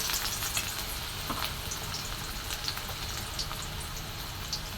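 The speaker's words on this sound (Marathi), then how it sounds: "आता मी तेल टाकलं इथे आता कांदा टाकून घेतो" Onion frying in hot oil gives a dense, steady crackling sizzle close by, with scattered pops throughout and no speech.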